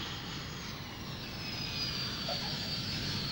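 A landed airplane taxis along the single airstrip on the island of Nauru, giving a steady, moderately distant engine roar that stays even throughout with no voices.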